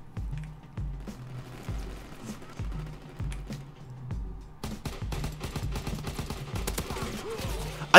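Automatic gunfire in the World War II shooter Call of Duty WWII, heavy-recoil weapon firing in repeated bursts with low thumping reports, a denser sustained stretch in the second half.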